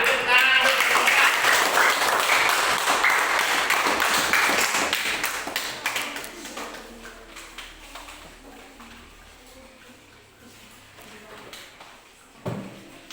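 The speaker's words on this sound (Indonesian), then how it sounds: "tepuk tangan untuk kelompok" A classroom of students applauds a group presenting, loud dense clapping at first that thins out and fades to scattered claps and quiet, with a lone thump near the end.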